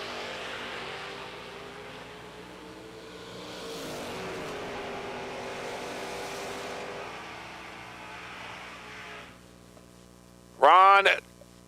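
Drag racing cars at a $250K event, a Mustang chasing a Camaro, with a steady engine roar that swells and fades under a faint voice, then ends in a sudden loud burst.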